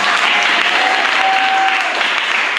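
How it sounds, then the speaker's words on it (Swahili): A church congregation claps in praise to Jesus during an apostle's ministry, a dense sustained wash of applause filling the room, loud and steady throughout. "Kama unaamini pigia Yesu makofi mazuri."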